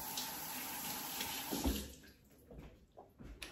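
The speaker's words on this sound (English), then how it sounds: "Hands are all dirty. Let me go wash them." Water runs from a household tap into a sink while hands are washed, a steady broadband rush that shifts and thins partway through, with splashing changes near the end.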